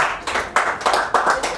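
Short bursts of applause from a comedy club audience, several quick waves of clapping rising and falling, close and fairly loud with no talk over them.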